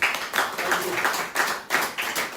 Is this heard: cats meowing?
no